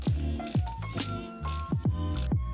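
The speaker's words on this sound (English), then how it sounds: "So I'm also gonna loosen the stem bolts." A hand tool loosens the stem bolts on a road bike, making a close series of evenly spaced ratcheting clicks and squeaky metallic sweeps, with no voices.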